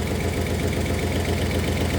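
A 1964 Oldsmobile 394 V8 idles close by, a steady low rumble with an even pulsing rhythm and faint ticking, running alone without voices.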